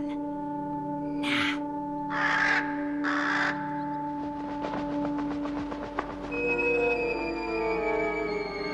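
A raven caws three times in a row, loud and close, over a steady train-like mechanical hum that carries on after the calls end.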